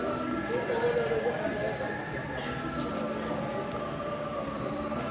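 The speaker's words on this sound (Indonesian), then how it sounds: "Persiapan masuk kereta api Serayu dari arah Pasar Senen" Serayu night train pulling in from Pasar Senen at a station, a steady loud rumble of rolling wagons with a brief wheel squeal early on, continuous throughout.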